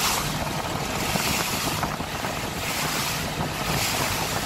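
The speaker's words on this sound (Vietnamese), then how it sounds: "Buổi sáng có gió, có chút gió cho nên sóng nó cũng hơi lớn này các bạn. Nó đập." Wind-driven waves slap against a small boat at the Cái Răng floating market on a breezy morning, a continuous loud wash of water and wind noise close to the microphone.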